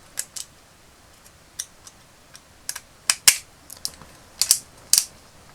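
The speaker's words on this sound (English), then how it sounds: "we'll take one screw and drop that in, and we'll tighten that one up as well" Small screw being driven into a vintage Transformers G1 Runamuck plastic toy, giving a series of sharp, irregular clicks and ticks close up, growing denser toward the end, with no talking.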